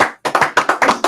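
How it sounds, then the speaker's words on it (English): Studio guests get a short burst of close, loud applause: a few sharp, rhythmic claps in quick succession, with no talking. "Clap it up"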